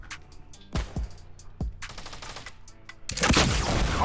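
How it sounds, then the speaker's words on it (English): Pump shotgun blasts in a Fortnite-style game played on PC, a few sharp close shots spaced apart with clattering game sounds between, ending in a loud burst of noise. "Two shots with the pump."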